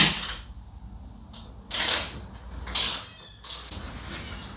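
Bolts on a 2007–2013 Chevy Silverado being backed out with a 10mm socket wrench: several short bursts of ratchet clicking, close and fairly clear, separated by quieter gaps.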